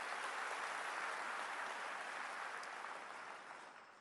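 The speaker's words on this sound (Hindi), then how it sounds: "हम अपने मुख्यमंत्री अरविंद भाई जी का जोरदार तालियों के साथ स्वागत करते हैं" Applause from an assembled audience welcoming a chief minister at a school happiness festival, a dense continuous patter of many hands that holds steady and then gradually fades toward the end.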